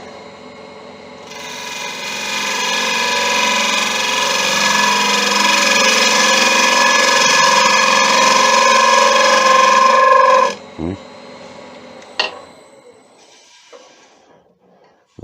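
A wood lathe trims the edge of a dried end grain bowl, a loud continuous rasping whir of the tool cutting against spinning wood, rising in strength and holding steady before cutting off abruptly, followed by a few faint knocks.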